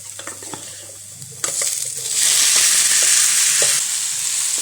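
Chinese potatoes (koorkka) drop into a hot pan of masala and fried shallots, and a loud, steady sizzle breaks out and swells. Light scrapes and clinks from stirring come through the frying.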